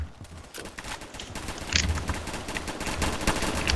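Gunfire in the online shooter Phantom Forces, including a shotgun, a dense rattle of rapid shots and bursts running throughout, moderately loud with no talk.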